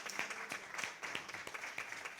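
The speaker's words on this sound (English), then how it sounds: "Let's have a round of applause for both of these women" Audience applause at a charity gathering, steady dense clapping heard from a distance, faint and continuous without voices.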